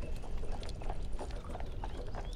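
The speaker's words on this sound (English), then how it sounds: "You find yourself traveling by horse and cart through a beautiful flat countryside, topped with a fresh layer of snow." Horse hooves clip-clop steadily as a horse pulls a cart through fresh snow across flat countryside, a continuous close rhythm of soft muffled steps.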